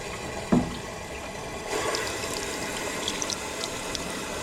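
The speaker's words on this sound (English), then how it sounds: "I'm running water through where the water pump goes" Water rushes through the water pump opening of a BMW S52 engine's cooling system in an E30, a brief splash then a steady nearby gush and trickle.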